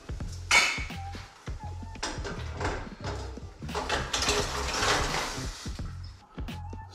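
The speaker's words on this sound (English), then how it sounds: "I'm going to add 3 pounds of steamers." Three pounds of soft shell clams (steamers) are tipped into a pot of boiling water on a stove, their shells clattering and knocking against the metal in repeated irregular bursts, close and fairly loud.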